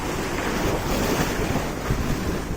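Sea waves washing up on the shore beside a breakwater pier, a loud, continuous rushing surge mixed with heavy wind buffeting the microphone, no voices.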